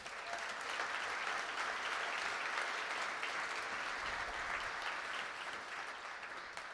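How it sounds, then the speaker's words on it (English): Sustained audience applause filling a hall at a Moby Dick Marathon reading event, dense steady clapping throughout at moderate loudness with no speech over it. "Please give them all a round of applause."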